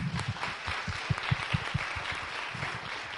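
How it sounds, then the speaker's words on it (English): Applause from attendees at a holiday joint board meeting of a disability charity plays at moderate volume, a rhythmic patter of claps with some individually distinct hand strikes standing out. "let's pass the round of applause for the Hotellings, please"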